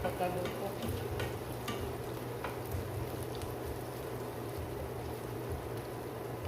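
Adobong kangkong fries in a pan while being stirred, a faint continuous sizzle with soft scraping stirs at the start.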